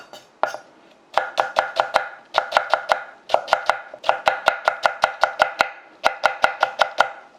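A knife julienning potato chops rapidly and steadily on a cutting board, crisp close taps in quick bursts separated by brief pauses, no voices.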